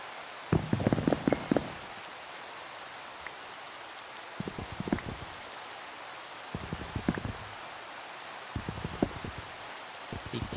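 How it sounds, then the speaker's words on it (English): Steady rain falls across the blocky Minecraft world as a soft, continuous hiss, with scattered faint thuds and taps breaking through it now and then; no one talks. "while it's raining, hopefully it rains for a little bit"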